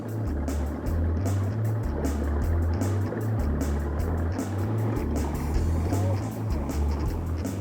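A fishing boat motors around on Lake Purrumbete, its outboard engine throbbing in a low, pulsing rumble that rises and falls as it manoeuvres, close by and continuous, with light splashing above it.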